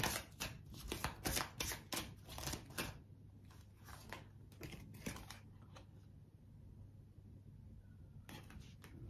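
Tarot cards shuffled by hand in a burst of rapid riffling flicks, then slower intermittent card snaps and slides, close and fairly quiet with no talking.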